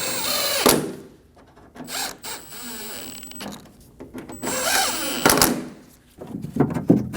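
A power tool snugging down three bolts on a 2008-2015 Scion xB front door lock actuator: several short whirring bursts with ratcheting and rattling in between, close and fairly loud.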